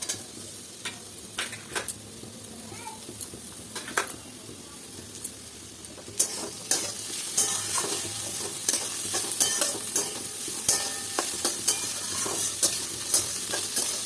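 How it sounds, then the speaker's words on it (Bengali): Cashews and raisins fry together in a pan for fried rice, with a steady sizzle under repeated clicking and scraping stirs that grow busier and louder partway through. "এবার আমি ওই হাতে কাজু আর কিশমিশগুলো ভেজে দেবো।"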